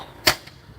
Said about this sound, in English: One of them exploded like right after ignition.